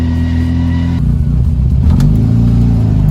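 A Mini 1275 LS engine with straight-cut gears revs hard and steadily up close, its harmonics climbing as it pulls through the gears, with no voices.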